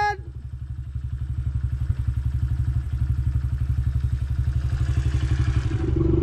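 Small farm motorbike engine running steadily while riding through a paddock, a loud close rhythmic putter with mechanical clatter that holds constant, then rises slightly near the end.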